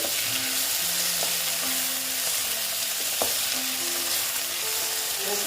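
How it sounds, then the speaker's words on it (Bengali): Tomatoes, potatoes and onions sizzle steadily in hot oil in a pan, with intermittent stirring scrapes and clinks layered over the constant close frying hiss. "এরপর আমি টমেটোগুলো দিয়ে দিচ্ছি দিয়ে আবার আমি একটু ভেজে ভেজে নিচ্ছি"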